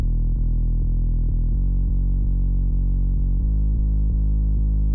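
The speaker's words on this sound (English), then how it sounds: "we're gonna add distortion with Fruity Fast Dist, compression using OTT, a Soundgizer, and an EQ removing the highs and mids" Sub bass processed with Fruity Fast Dist distortion, OTT compression, Soundgoodizer and an EQ cutting the highs and mids: a steady, loud, deep tone that pulses in even, regular beats throughout.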